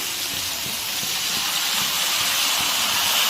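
Steady, loud sizzling hiss of mustard paste frying in a hot pan, continuous throughout with faint clatter underneath.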